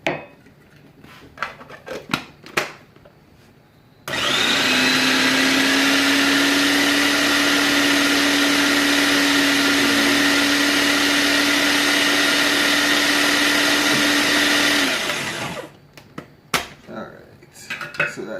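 Kitchen blender grinding Guyanese dhal puri filling: a loud, steady high whir running for about eleven seconds, framed by clattering of utensils and handling noises before and after.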